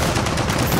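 Sustained automatic gunfire in the shooter video game Gears of War 4, a dense loud continuous burst filling the whole short moment.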